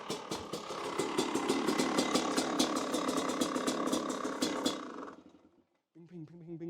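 A motorcycle engine fitted with a Lectron carburetor idles close by with a steady, pulsing mechanical clatter, then cuts out near the end as a voice starts speaking.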